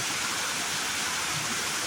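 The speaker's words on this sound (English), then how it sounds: "somehow the water is flowing over it." Water flows steadily over a string of lights on an outdoor walk, a dense, even rushing wash like a small cascade, close and constant with no breaks.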